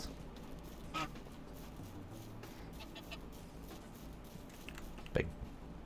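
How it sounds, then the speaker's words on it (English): Farm geese in Medieval Dynasty give faint, scattered honks, a couple of short nasal calls a few seconds apart over quiet ambient background. "the gooses have taken over for the chickens"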